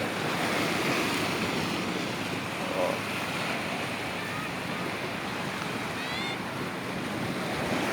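Steady roar of sea waves washing ashore at Dasol, Philippines, with wind buffeting the microphone throughout.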